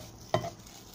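Cheese sausage fries in a pan without oil as a utensil gives one quick stirring scrape against the pan, with a faint sizzle underneath.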